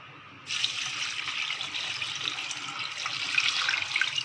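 After a brief quiet moment, water pours steadily into a cooking pot of spiced beef trotters with a continuous rushing splash that lasts to the end.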